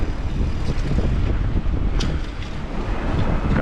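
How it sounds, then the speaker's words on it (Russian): Strong winter wind on the seaside coast road near Yalta, Crimea, roaring and buffeting the microphone in a continuous low rumble with no speech. "Сегодня ветер бешеный."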